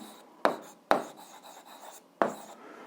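Chalk or pen scratching out a formula during an eighth-grade algebra lesson, with three sharp taps as strokes begin and soft rubbing scratches between them, close and fairly quiet.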